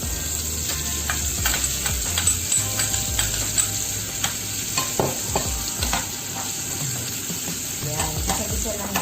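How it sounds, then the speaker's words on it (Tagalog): Onions frying in melted butter for pork adobo, sizzling loudly and continuously up close, with frequent clicks and scrapes as the pan is stirred. "Antayin natin maluto ng kaunti yung sibuyas bago natin isunod ang ating bawang."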